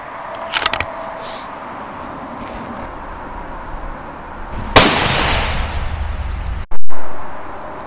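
.308 rifle shot fired at a 100-yard target outdoors, a single sharp loud crack with a trailing decay, preceded by a few faint clicks and followed by a thump near the end.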